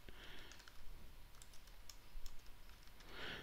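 Quiet computer keyboard typing in a short run of light, irregular key clicks, close and alone with no talk, as a search term is entered into a task-management app.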